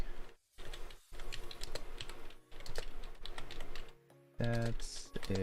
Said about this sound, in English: so I'll just type in chat